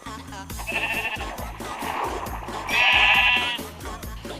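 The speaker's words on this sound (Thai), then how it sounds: "เจอแกะอีกแล้วสองตัว" Sheep in Minecraft bleat twice in the game, with two loud, drawn-out cries over steady background game music.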